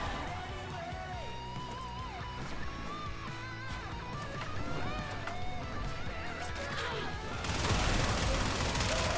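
Latron rifle fire in the Warframe video game, a dense, sustained run of shots layered with busy game effects and music, steady and close, growing louder and harsher near the end.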